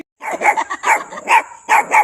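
A dog barks in short bursts, about four or five loud, close barks in an uneven rhythm with brief gaps between.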